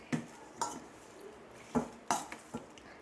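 Boneless chicken pieces being tossed and coated in a bowl for creamy garlic chicken, giving a handful of sharp clinks and scrapes spaced irregularly, close and fairly quiet.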